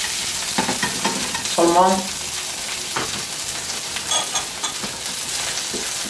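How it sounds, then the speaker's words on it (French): Red chicory sautéing in Italian olive oil in a pan, a steady sizzle with stirring scrapes and a brief clatter of the utensil, while someone speaks briefly in French over the cooking. "On met de l'huile d'olive italienne. On ajoute les chicorée rouge. On fait un sauté"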